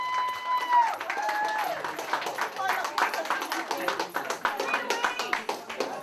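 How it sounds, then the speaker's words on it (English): A crowd claps in a dense, uneven patter that builds and continues, with a few cheers early on; no clear speech over it. "give him a massive round of applause"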